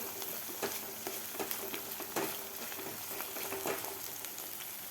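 Masala with ginger-garlic paste sizzles steadily in a pan for kabuli chana, with scattered scraping stirs of a spoon over the constant frying hiss, close and moderately loud, with no talk.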